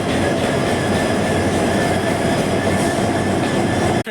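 A long passenger train with many coaches rolls along a hill route near Dudhsagar in Goa, a loud continuous rumble with steady wheel clatter and faint squeal, close and unbroken.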